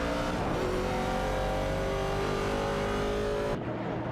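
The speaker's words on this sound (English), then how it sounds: "It's a classic Camaro showdown between the 69 and 70 models." Classic 1969 and 1970 Camaro race cars compete in an AI racing video game, a loud sustained engine whine rising in pitch before cutting off abruptly.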